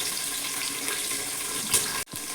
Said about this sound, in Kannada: ಆಮೇಲೆ ಇದು ಬೀನ್ಸು ಮತ್ತು ಕ್ಯಾರೆಟು, ಇದು ಸ್ವಲ್ಪ ಫ್ರೈ ಆಗುತ್ತೆ